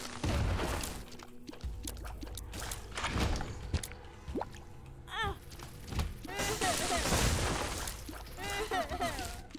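Explosions in the game Isaac Repentance, several broad booming bursts mixed with chaotic game effects and chirping tones, heard under a continuous stream of game audio.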